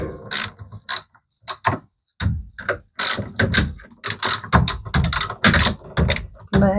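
A part is tightened by hand on a Samsung washing machine under repair: a rapid run of ratcheting clicks and mechanical rattles in short bursts, loud and close, with brief pauses between turns.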